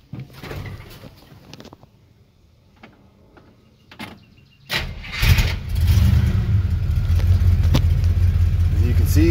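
A 1956 Chrysler Windsor with its original 331 poly V8 cold starts: after a quiet stretch of faint sounds with a few clicks, the starter catches and the engine fires, settling into a loud, steady, rumbling idle close by.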